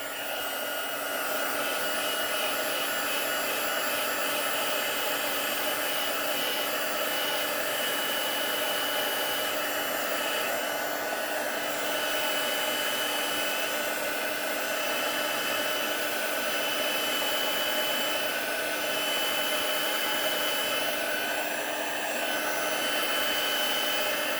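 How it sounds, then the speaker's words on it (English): A heat gun blowing hot air, a steady, close whooshing roar that holds constant and uninterrupted for the whole stretch, with no voices. "There's a heat gun."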